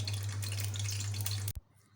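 Golgappa puris sizzle in hot oil in a kadai, a steady dense hiss over a low hum that cuts off abruptly near the end.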